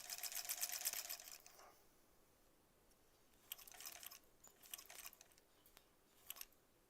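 A sewing machine stitching a wool knit sweater: a fast rattling burst of stitches at first, then quiet pauses broken by short stitching spurts and small clicks as the fabric is turned.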